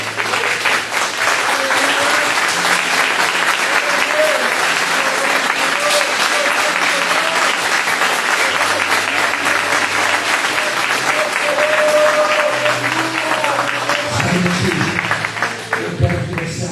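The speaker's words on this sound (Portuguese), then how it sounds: "nós vamos aplaudir o Senhor" A church congregation applauds loudly and steadily at an evening worship service, dense sustained clapping filling the room with tonal music or voices running underneath.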